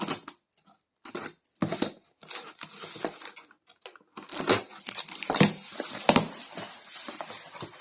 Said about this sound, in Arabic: نفتح الكرتونة الثانية ونقول بسم الله